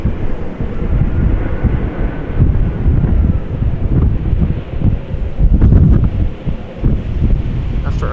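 An airliner in special Irish rugby Shamrock livery, arriving from Dublin at Amsterdam Schiphol Airport in a storm crosswind, gives a loud, low, continuous engine roar. Heavy wind buffeting on the microphone swells and fades over it the whole time.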